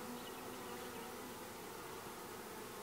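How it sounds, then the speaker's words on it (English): Honey bees gather around a caged queen and her attendants while re-queening a hive, making a steady, faint, dense buzzing drone with no break or rise. "the bees are picking up her scent. They're going more and more up to the queen cage where she's at"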